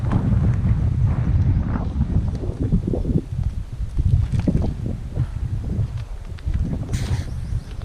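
Gusty wind blows outdoors at Fort Carlton, buffeting the microphone with loud, rumbling low gusts that rise and fall continuously, with no clear talking.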